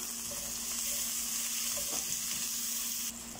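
Garlic, green chili and ginger sautéing in a pan, a steady close sizzle throughout with faint stirring scrapes.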